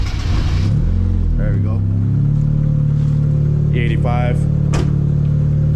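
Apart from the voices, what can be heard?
Mazda Miata car engine starting and revving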